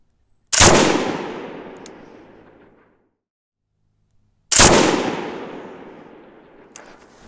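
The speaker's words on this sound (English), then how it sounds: "That was 5 rounds, fired on repetition at 200 yards." A 1942 Bren light machine gun fires two single rounds at a 200-yard range course, each a loud sharp crack with a long ringing decay, spaced about four seconds apart in open air.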